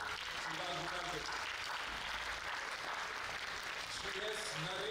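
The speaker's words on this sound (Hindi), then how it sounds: "वहां से बहुत जोरदार तालियां आ रही है" Audience applause at an anniversary celebration, a soft, steady patter of clapping heard faintly in a hall with some background voices and tonal sound underneath.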